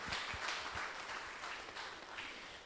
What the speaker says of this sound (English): I'd like to give my mother and all her helpers a big round of applause